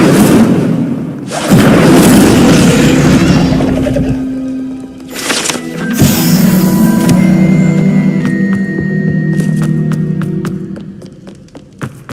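Incendio fire spell cast in Hogwarts Legacy, a loud whooshing burst of flame with crackling and thuds, followed by magical ringing chimes and tonal effects that fade over several seconds.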